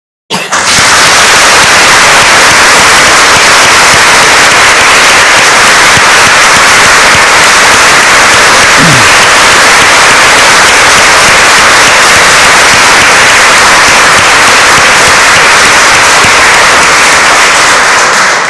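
Loud, dense, continuous applause fills a hall at a Supreme Court swearing-in ceremony for new lawyers, an unbroken wash of many hands clapping for over fifteen seconds.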